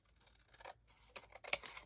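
Scissors trim paper in a few short, quiet snips with crisp cutting noise, the last snip sharpest, in an otherwise hushed room.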